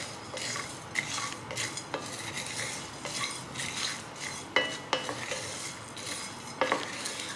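Biryani spices dry roast in a pan, with a soft continuous rustle and faint sizzle while a utensil stirs and scrapes, tapping the pan with sharp clinks every second or so.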